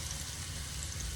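Rice and beef meatballs fry in a pan of hot oil, giving a steady, quiet hiss and sizzle with no pauses over a brief stretch.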